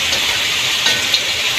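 Bean sprouts (toge) sautéing in a pan, a loud, steady frying hiss with soft crackle throughout, close and alone with no talking.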